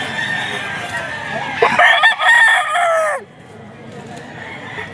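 A bullstag gamefowl rooster of the Hatch Gray line crows once at a pet market, the loud drawn-out call rising then trailing off, with a background murmur of market voices.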